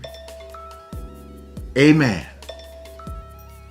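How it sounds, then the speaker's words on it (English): Bells chime to signal that speaking time is up during a church service, clear ringing tones repeating with a brief louder cluster in the middle, heard close and cutting across a short spoken word. "You hear those bells? That means my time is up."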